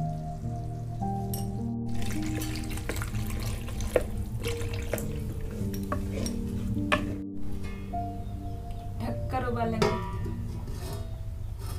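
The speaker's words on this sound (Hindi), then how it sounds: "और पानी डालकर उबालेंगे।" Water is poured onto cornflour in a cooking pan for a village-style paneer dish, a steady running splash over faint background music.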